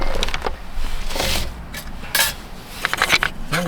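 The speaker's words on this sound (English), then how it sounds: "I'm going to mix some batter in here." Batter being mixed in a pot on a camp stove during winter camping, with scraping and clinking of a utensil against metal in uneven bursts, close and fairly loud.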